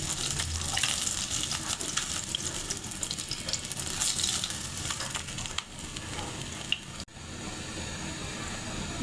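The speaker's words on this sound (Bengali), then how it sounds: "যে তেলে মাছ ভেজেছি ওই একই তেলে আমি জিরা ফোড়ন দিয়ে দিলাম" Cumin seeds crackling in hot mustard-style oil left over from frying katla fish, a steady dense sizzle that drops off briefly near the end before continuing, close and loud, with no talking.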